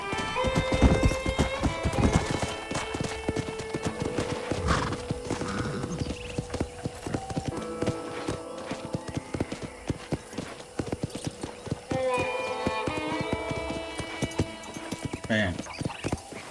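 Horse hooves clip-clop steadily as a horse is ridden in Red Dead Redemption, with a loud whinny near the start and people talking over the rhythmic hoofbeats throughout.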